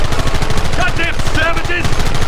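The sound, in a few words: gunfire from a gang shootout in the video game Red Dead Redemption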